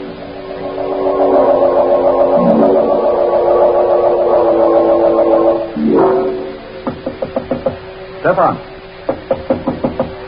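Knocking on a door as a radio drama sound effect: after a humming musical passage and a shouted name, several bursts of sharp, distinct knocks ring out at close range, with brief talk between them.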